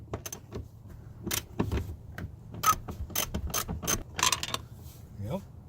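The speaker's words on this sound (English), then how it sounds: "I'm going to take off this central nut here now." A ratchet turns the central nut holding the rear seat of a Pontiac Grand Prix Turbo Edition, producing quiet bursts of quick metallic clicking, with short pauses between strokes, close to the microphone.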